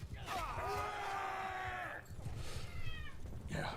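A house cat meows insistently, with drawn-out, wavering cries in close succession, moderately loud and near, over faint room noise.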